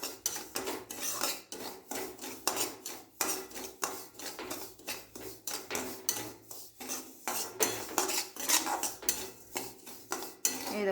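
A utensil repeatedly scrapes and stirs semolina in a metal pan while it browns, producing rhythmic close metallic rasps and clinks in a continuous back-and-forth pattern with no talking.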